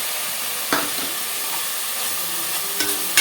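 Onion with ginger-garlic paste sizzles steadily in a pan, a continuous close frying hiss broken by a few scraping stirs of a spoon.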